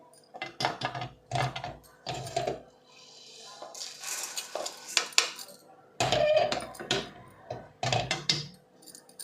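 Dried red chillies dry-roasting in a pan for pirandai powder, with repeated clinking, scraping stirs and rattling of the chillies against metal in bursts, interrupted by short pauses.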